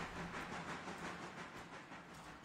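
A train in a railroad video game rolls steadily along the track with a soft, continuous rushing hiss and faint rhythmic clatter, fairly quiet and with no talking.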